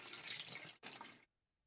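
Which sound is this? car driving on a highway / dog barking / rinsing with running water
rinsing with running water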